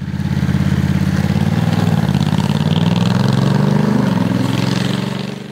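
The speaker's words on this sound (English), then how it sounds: "It's also surprisingly smooth for a big parallel twin, and it makes a lovely note at the exhaust." A 2022 Honda Africa Twin Adventure Sports 1100 DCT with its big parallel-twin engine gives a loud, steady, throbbing exhaust note that rises slightly and then settles, heard up close with no talking.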